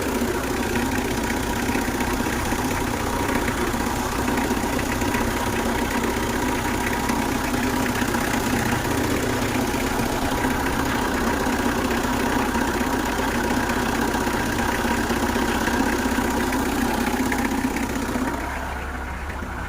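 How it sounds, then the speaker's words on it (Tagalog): A car's air-conditioning compressor runs after an evaporator replacement, giving a steady, close mechanical drone with engine idle underneath that holds evenly for about twenty seconds before easing slightly at the end. "So yun guys, gumana na yung compressor."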